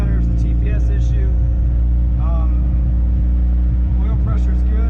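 Honda CRX Si engine idling steadily after being started, a constant low hum close up, with someone talking over it and brief higher noises.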